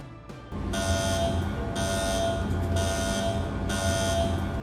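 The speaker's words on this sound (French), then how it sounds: "une alarme thermohydraulique est ignorée" Dramatized thermohydraulic alarm buzzer in the Chernobyl reactor control room sounds loud, steady and electronic, pulsing in roughly one-second repeating cycles after a brief start.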